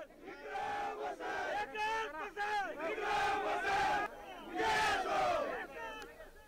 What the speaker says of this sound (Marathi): या 3 मतदारसंघात महाविकास आघाडीनं मुसंडी मारल्यानं महाविकास आघाडीच्या कार्यकर्त्यांनी जल्लोष केला